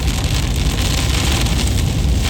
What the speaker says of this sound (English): It's raining hard, it's raining hard.